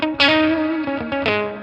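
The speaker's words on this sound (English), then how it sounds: "Let's go to the boost, though, on that clean sound." An electric guitar plays through a Line 6 Catalyst amp with a clean tone and boost engaged, giving a short phrase of sustained, ringing notes with a couple of fresh plucks, loud and close.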